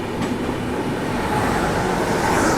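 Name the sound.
Garib Rath Express train overtaking Muzaffarpur Anand Vihar special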